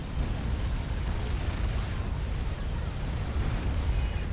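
A nuclear explosion in the strategy game Forged Alliance Forever, heard as a sustained loud, deep rumbling roar that fills the whole stretch without letting up.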